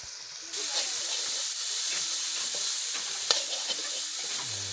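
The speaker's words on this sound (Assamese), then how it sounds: "কণ বিলাহী দিছোঁ একদম লোকেল পিয়ৰ মাল" Small local tomatoes frying in a pan, a steady close sizzle and hiss that jumps louder after half a second, with scattered scraping taps of stirring throughout.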